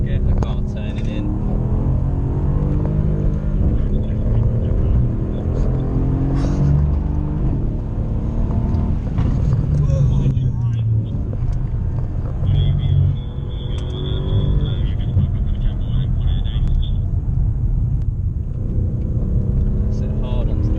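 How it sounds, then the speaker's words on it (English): A car accelerates through a turn on a racing circuit, its engine droning loudly and continuously, with someone talking over it throughout. "So building onto the throttle, get the car turning in."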